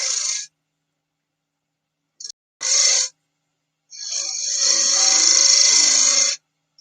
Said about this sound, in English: And I'm just using the side of a bowl roughing gouge here.